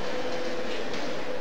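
Berlin U-Bahn subway train in the video game Train Simulator, a steady close rumble of train running noise with a continuous hum and no breaks.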